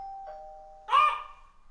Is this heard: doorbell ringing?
yes